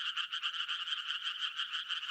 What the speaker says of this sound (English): A Sardinian tree frog can be identified even from a distance thanks to its fast and high-pitched song